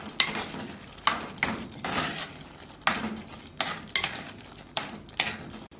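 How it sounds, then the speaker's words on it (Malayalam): A spoon scrapes and stirs a chicken and spice masala mixture with garam masala and cumin powder in a pan, rhythmic clanking strokes about once a second, close and fairly quiet, with no talk. "എല്ലാം കൂടെ ഇളക്കി മിക്സ് ചെയ്യാം."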